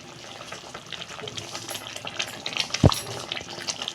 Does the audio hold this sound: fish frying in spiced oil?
yes